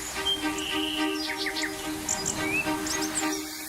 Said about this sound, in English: Ryan and Lisa's Bird Break.